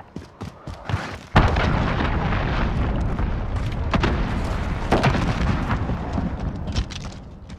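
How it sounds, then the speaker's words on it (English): A cruise missile strike in a video game lands as a sharp boom, followed by a dense, sustained roar of blast rumble and crackling debris that stays loud throughout. "cruise missile away"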